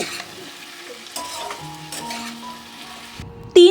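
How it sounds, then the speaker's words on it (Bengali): Vegetables stirred with chili powder in a frying pan, giving a soft sizzle with intermittent scraping of the spoon against the pan and a louder clatter at the end. "লঙ্কা গুঁড়ো দেওয়ার পরে সবজির সাথে লঙ্কা গুঁড়োকে ভালোভাবে মিশিয়ে নেব।"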